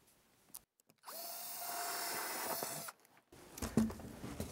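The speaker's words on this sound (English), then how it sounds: "let's go ahead and drill our hole" A power drill bores a hole into a model railroad layout, a steady loud whine of about two seconds after a couple of brief starts, followed by clattering handling noises.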